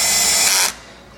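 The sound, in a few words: power tool tightening screws on luggage unit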